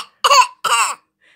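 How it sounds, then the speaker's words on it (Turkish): Two sharp, close coughs in quick succession, given on request during a playful pretend doctor's checkup, followed by silence. "Öksür."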